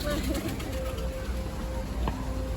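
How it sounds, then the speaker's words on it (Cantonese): Soft white pigeon coos sound amid background noise at a restaurant in Conghua, with people chatting nearby. "好多白鴿啊！"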